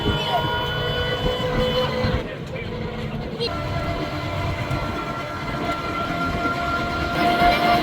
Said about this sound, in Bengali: এই যে ট্রেন স্টেশনে এসে পড়ছে